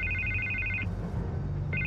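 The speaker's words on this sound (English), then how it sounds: "I can't get the phone to stop ringing." A telephone rings in the video game Batman: The Telltale Series, with two steady electronic trill bursts separated by a short pause, clear and fairly quiet, with no voices.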